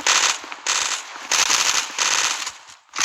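Loud, close automatic gunfire in the online shooter game Zula, fired in four or five rapid bursts with short gaps between them and no talking.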